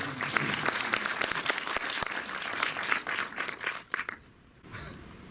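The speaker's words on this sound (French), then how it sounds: "vous avez le droit d'applaudir" Audience at a film screening applauds, dense sustained clapping from many hands in a room that fades out after about four seconds, with faint voices at the end.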